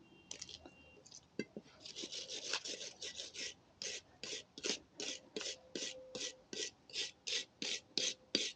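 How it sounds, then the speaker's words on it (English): A brake caliper bracket on a 2014 GMC Sierra gets its clip contact surfaces scrubbed with short, close, rasping strokes. These start irregular, then settle into a steady back-and-forth rhythm of about twenty scrapes. "I'm going to be cleaning the surfaces where those clips are going to be sitting on the bracket"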